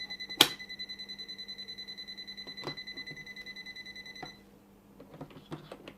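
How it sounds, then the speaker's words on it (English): A TOOLTOP ET32 breaker finder beeps in a steady, rapid series of evenly spaced electronic tones for about four seconds, sharp and close, then falls silent as faint clattering handling sounds follow. "So it is beeping."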